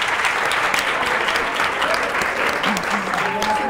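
Studio audience applauding on a Catalan televised spelling quiz show, steady dense clapping throughout at a moderate level, with a voice briefly audible over it.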